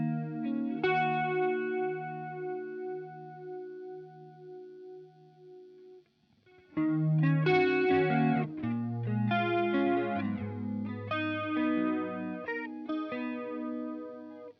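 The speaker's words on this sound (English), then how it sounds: "So we'll start with the normal flanger." Electric guitar played through a flanger pedal in its normal flanger mode, sweeping notes and chords with a swirling, jet-like whoosh, a held chord then a busier phrase after a short gap, no talking.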